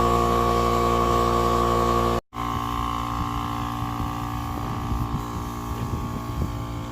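An air compressor in a machine shed runs continuously as it fills up, a loud steady mechanical drone with a brief cut near two seconds before it carries on.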